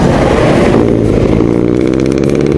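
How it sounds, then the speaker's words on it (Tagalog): Honda Supremo motorcycle engine running close up and loud, a rapid rattling idle with a sharp, high-pitched buzz and a slight rise in revs partway through. "Supremo palang makina nito, kaya pala kaya pala matining ang andar niya."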